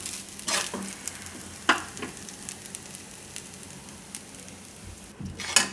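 Thecha rice is stirred in a hot pan, a spoon scraping and tossing it in several separate strokes over a soft continuous sizzle, with sharper clinks and scrapes standing out close by.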